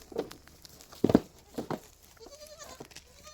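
A local country-breed buck goat bleats in a few short, nasal calls spread across the clip, fairly close, with quiet background noise between them.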